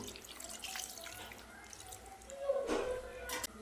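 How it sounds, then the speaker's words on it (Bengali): Water is poured into marinated amodi fish in a cooking pot, giving faint drips followed by a short, splashy pour near the end, quiet and close. "এবার অল্প করে একটু জল দিয়ে দেবো।"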